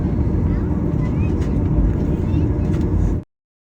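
Steady, loud low-pitched roar of an airplane cabin during landing, a constant engine drone filling the space, cutting off abruptly at the end.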